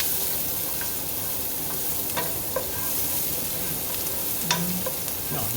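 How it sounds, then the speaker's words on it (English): Small onions frying in a pan for shrimp arrabbiata, a steady close sizzle with occasional scraping stirs and light clinks over it, with no talk. "I'm going to add the onions now"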